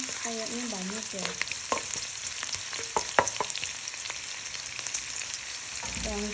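Shallots frying in a fair amount of oil in a pan, a steady bright sizzle with occasional light utensil taps and a brief squeaky tone at the start, no speech.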